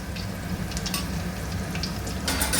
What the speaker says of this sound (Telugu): ఆయిల్ ఇట్లా డీప్ ఫ్రై చేసుకొని